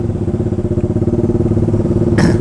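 Motorcycle fitted with a loud aftermarket racing exhaust, engine running steadily with a rapid, throbbing low pulse close by, a brief burst of extra noise near the end.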